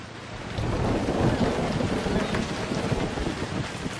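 Steady rain pours down with a low rolling rumble of thunder underneath, dense and continuous throughout, with no voices, in the video game Emergency 4.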